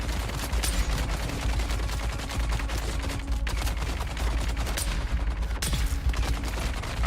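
Enemies firing guns in Dune: Awakening: dense, steady rapid gunfire throughout, with sharper individual cracks standing out over the continuous barrage.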